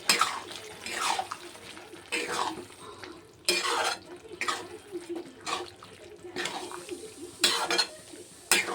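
Bottle gourd and chana dal stirred in a pot, with repeated scraping and clinking of a utensil against the metal in irregular bursts, close and moderately loud, with no talk.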